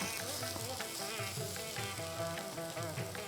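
Onion and capsicum frying in a pan for chilli idli give a soft, steady sizzle with faint stirring, heard under a quieter tonal background.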